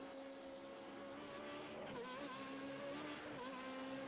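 Formula 3.5 race cars roar down the front straight at Imola in the iRacing sim, a sustained high engine whine with shifting pitch and a brief tyre squeal, steady and close with no talk.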